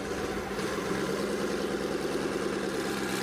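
Twin-turbo Coyote V8 in a Ford Mustang idling, a steady dense low engine rumble with an even, unbroken tone, close and alone without talk.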